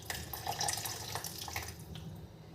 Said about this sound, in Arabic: فانا بص بالكاتل هنا هحط لكم هنا شويه ميه